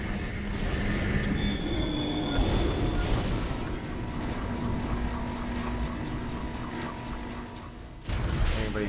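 A tram pulls in inside the sci-fi horror game Dead Space: a loud, continuous mechanical rumble with metallic grinding and low droning tones builds and holds, then shifts with a heavier clunk near the end as it arrives.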